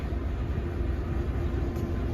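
Diesel locomotive 710, a 75-year-old engine, rumbling steadily on a railroad museum turntable, a continuous low mechanical drone with faint hiss above, close and unbroken.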